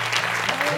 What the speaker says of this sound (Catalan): ja podeu aplaudir perquè això és una notícia